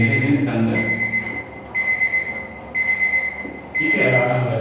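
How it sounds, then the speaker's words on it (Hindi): An alarm beeps in a steady repeating pattern, four evenly spaced high electronic tones about a second apart, loud and close over a low background hum. "अलार्म थोड़ी जल्दी बज गया"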